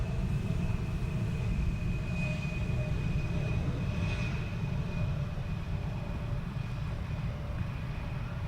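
A steady, continuous roar of an airplane on approach to runway 18R at Amsterdam Schiphol Airport, with a constant engine hum and a high whine running throughout, heard without talk.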